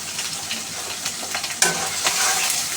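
Dried fish frying in oil in a pan, a steady dense sizzle with occasional stirring scrapes and louder crackles, close and continuous with no talking.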